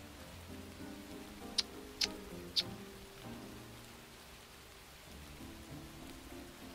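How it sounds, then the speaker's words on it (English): A soft rain ambience patters quietly and steadily through the scene, broken by three sharp, brief ticking clicks early on, with a low background hum beneath. "I mean, it is raining."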